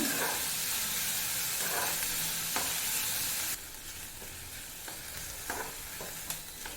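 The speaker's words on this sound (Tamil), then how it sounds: "வெங்காயம் வந்து நல்ல கலர் சேஞ்ச் ஆகிற வரைக்கும் வதக்கிக்கோங்க" Onions sautéing in oil in a pan for an egg gravy, a close, steady sizzle with occasional stirring scrapes; the sizzle drops noticeably quieter halfway through and keeps going at a lower level.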